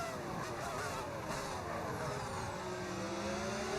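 A steady, loud race car engine drones without a break, its pitch gliding as the car accelerates through a racing video game with a modded engine sound.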